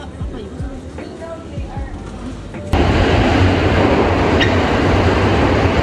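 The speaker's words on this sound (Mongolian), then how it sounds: "Одоо метронд суухад байжлаа." A Tokyo subway metro train ride: a loud, steady rumbling roar of the moving carriage kicks in abruptly partway through, following a quieter stretch with voices in the background.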